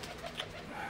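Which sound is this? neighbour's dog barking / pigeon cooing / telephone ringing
pigeon cooing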